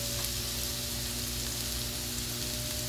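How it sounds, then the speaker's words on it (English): Curry powder cooks in a pan with a steady, dense, hiss-like sizzle that stays even and unbroken throughout, close by and fairly quiet. "So then you just allow your curry to cook, okay?"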